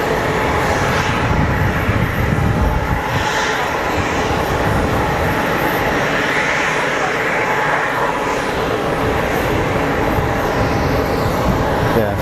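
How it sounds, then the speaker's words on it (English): A Bombardier Global Express business jet at Geneva Airport, its engines giving a loud, steady roar that holds for the whole stretch, with faint voices in the background. "given the size of it, I'm going to say it's a Bombardier Global Express"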